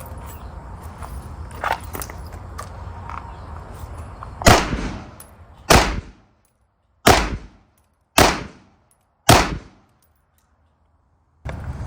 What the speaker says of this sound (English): So regular FMJ 124 grain bullet. Let's see if we can put 5 in the same spot and see what it does.